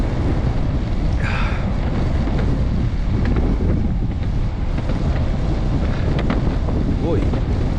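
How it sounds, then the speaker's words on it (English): Strong wind buffets the microphone during a night ride on a MEEPO Shuffle V4S ER electric skateboard at a mall, a loud steady rush with brief voices partly heard beneath it. "You guys hear that wind?"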